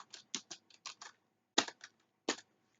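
Clicky keystrokes on a computer keyboard while writing JavaFX code, a quick run of separate taps followed by a short pause and a few more isolated presses, close and crisp in a quiet room.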